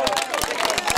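Audience applause and crowd noise at a family party after a live show by a local troubadour, quick irregular claps over lively chatter and cheering, with a voice speaking above the crowd.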